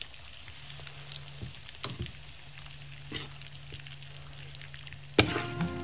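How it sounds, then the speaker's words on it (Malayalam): Chicken pieces frying in hot oil, a steady close sizzle with scattered crackles and pops and a sharp clatter near the end, no voices. "ഇതേപോലെ തന്നെ ബാക്കിയുള്ള ചിക്കനും നമുക്ക് ഫ്രൈ ചെയ്ത് എടുക്കാം"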